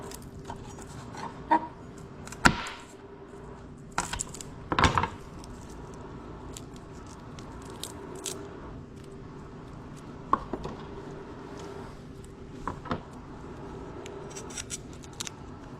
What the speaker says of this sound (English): I got 2 bunches. I'm gonna cut both of them.